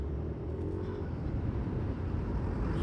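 Road traffic idles and moves near a stoplight in Kawit, Cavite, with cars and motorcycles around. A continuous low, rumbling engine drone sits fairly close and steady, without speech.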